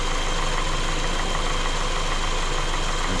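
A windshield wiper motor on a 2015 Ford Escape SE spins steadily, a constant whirring hum with mechanical hiss, even and close for a few seconds.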